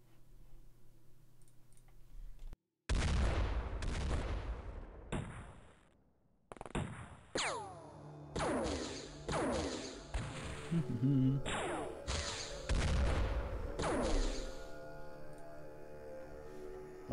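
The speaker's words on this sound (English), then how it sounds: "That's a lot of rockets." Rockets fire and explode in X-Com Files, a series of loud, sharp blasts with ringing tails and brief gaps, several arriving in quick succession, clear and close over the game's background sound.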